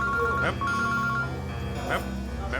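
A phone ringtone plays loudly with a repeating melodic pattern over a low hum, the tone pulsing in short bursts.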